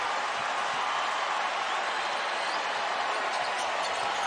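A packed arena crowd at a college basketball semi-final, San Diego State Aztecs fans cheering and roaring in a broad, steady wash of noise, unbroken and fairly loud, with no clear voices standing out.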